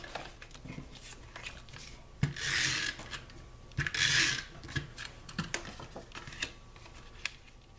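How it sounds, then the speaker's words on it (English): A Snail adhesive tape runner is rolled across a card layer, with soft rubbing and rasping passes, two louder swipes in the middle and small scattered clicks and taps, all quiet and close. "I'm going to use some Snail Adhesive to do that."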